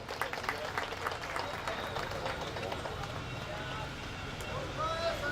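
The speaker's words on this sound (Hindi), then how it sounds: "जोरदार तालियों से स्वागत करें" At a Holi gathering, a crowd claps vigorously to welcome a guest, a dense, somewhat distant patter of applause with a voice talking over it.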